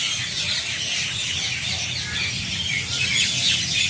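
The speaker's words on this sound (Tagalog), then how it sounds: "Nagkakagulo ang mga ibon." Birds squawk at dusk overhead near a seaside corniche picnic and camping area, a steady noisy chorus of high calls over constant background hiss, moderately distant and continuous.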